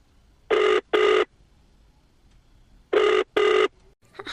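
A telephone ringing back on a dialed call, heard in a cartoon: two pairs of loud, close electronic ring bursts, each pair made of two short tones with a long silent gap between the pairs.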